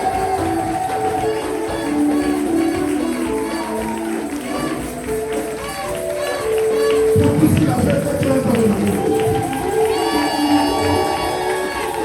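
Worshippers in a church send up loud, sustained cheering and acclaim, with mixed voices, shouting and music filling the space and swelling louder midway.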